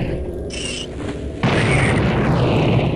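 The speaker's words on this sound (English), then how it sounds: "So get your TNT out, open up the doors, and we'll just detonate these spiders." In the DOS shooter Blood, TNT detonates on spiders in the level Breeding Grounds: a single heavy boom bursts in midway and leaves a loud, sustained roaring rumble after it.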